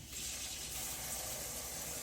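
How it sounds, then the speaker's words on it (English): Cold tap water gushes steadily into a strainer of cooked linguine in a kitchen sink, a continuous bright hiss of running water close to the microphone. "I'm going to run cold water over it."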